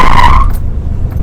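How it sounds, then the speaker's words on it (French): A Chevrolet Corvette C2, a heavy American muscle car, bursts loudly up close with a harsh tire-skid screech that fades into a low rumbling engine roar. "le moteur fait vraiment beaucoup de bruit"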